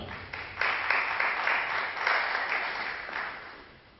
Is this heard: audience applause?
yes